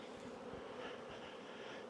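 A dense cloud of honeybees buzzes in the air around an open hive during a beekeeping job, a steady, faint swarming drone that holds throughout with no talk over it.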